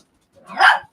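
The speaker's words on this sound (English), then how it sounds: "And I apologize for the dogs." A single short dog bark or yip indoors, fairly close and moderately loud, rising and cutting off within a second.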